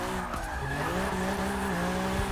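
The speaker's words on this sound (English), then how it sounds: "Let's actually do some drifting here." Tires of a 1997 BMW E36 M3 squeal in a long continuous skid while drifting in Forza 6, the wavering whine running steadily over engine noise.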